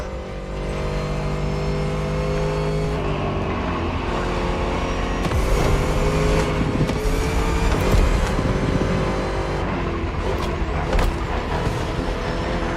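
In the racing video game The Crew, a muscle car engine roars loud and steady. Its pitch climbs and shifts as the car accelerates, with bursts of passing traffic layered over it, and nobody speaks.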